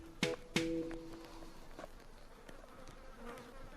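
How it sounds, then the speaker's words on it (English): Buzzing insects from a swarm of bees drone close by, with two loud sharp buzzes early on that sustain briefly, then fainter scattered buzzing and light rustling in a quiet outdoor setting. "Load of bees here."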